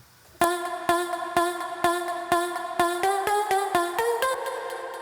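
Nexus synthesizer voice preset playing a melody with delay and reverb, a bright run of repeated plucky notes that steps downward and trails into echoing tails, alone.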